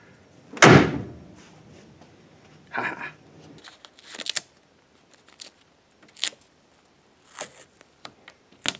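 A 1965 Chevrolet Impala car door is shut with one sharp, loud slam near the start. Softer rustling, handling and clicking sounds follow close by.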